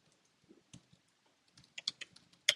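Typing on a computer keyboard, scattered key clicks picking up into a quicker burst near the end, close and fairly quiet with no talking.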